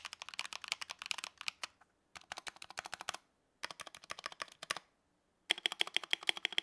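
Typing on a modded budget 60% mechanical keyboard with Akko CS Matcha Green switches, PBT keycaps and a metal top deck: close, crisp bursts of rapid keystrokes separated by short pauses, with no voices.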